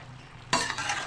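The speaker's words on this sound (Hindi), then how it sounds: "अब खूब अच्छे से इसे मिक्स करेंगे।" Boiled pasta is stirred into sauce in a pan: after a quiet start, a brief burst of wet scraping and sizzling begins halfway through.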